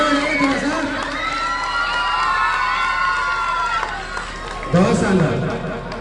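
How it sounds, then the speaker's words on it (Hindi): An audience of schoolgirls and families at a girls' school Mother's Day celebration, clapping and cheering loudly, with excited children's shouts and whoops over a busy crowd, swelling again near the end. "ताली बजाइए थोड़ा सा।"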